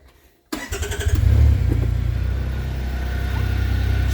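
A 2025 CFMoto U10 PRO utility vehicle engine cranks and catches after a quiet moment, revs briefly, then settles into a steady, close, even idle, heard from behind the vehicle.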